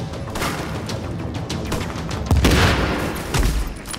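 A grenade blast in the shooter game The Division, a loud broadband boom rising amid continuous gunfire, followed by another thump a second later, with no talk.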